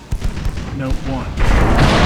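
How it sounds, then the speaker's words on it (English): Heavy 8-inch naval guns fire in Ultimate Admiral Dreadnoughts, a battleship game, with a few dull booms and rumbling blasts, the last one swelling into a sustained roar, under a voice. "Yeah, this is an 8-inch gun."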